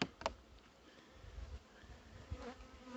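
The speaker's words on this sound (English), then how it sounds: "these bees are coming all around this phone" Soft buzzing of honeybees hovering close by, a steady insect drone with a few brief louder passes, no talking.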